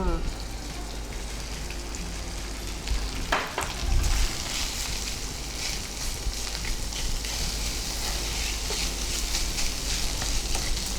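Cooked rice added to a sizzling tempering for lemon rice chitranna and stirred, a steady loud fry hiss with a few scraping stir strokes, under people talking.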